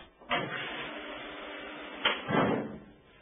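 Two heavy thuds from water hammer knocking in washing machine pipes, one sharp bang followed later by a double knock, with a low hum between.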